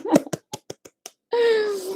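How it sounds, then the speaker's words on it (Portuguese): A few sparse, separate hand claps ring out in a council meeting, followed by a sustained voice. "a gente pode aplaudir também"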